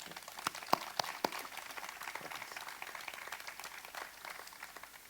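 A small audience gives a brief burst of applause welcoming a guest on a Spanish talk show, a few sharp claps standing out near the start before settling into steady, moderate clapping.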